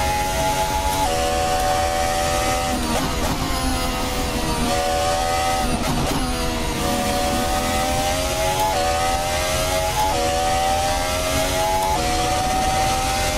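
Formula 1 car engine screaming around Suzuka in Assetto Corsa, a loud continuous high-revving whine with rising pitch sweeps and brief dips at gear shifts, steady and close with no talking.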